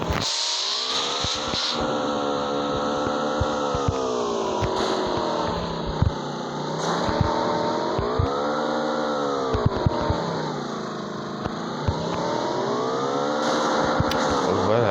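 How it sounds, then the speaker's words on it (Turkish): A motorcycle is ridden in the mobile game PUBG Mobile, its engine droning steadily and rising and falling in pitch with repeated revving swells, loud and close, with faint clicks over it. "Evet efsane motor sürüyorum"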